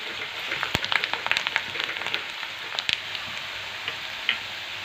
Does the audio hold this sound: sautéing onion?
yes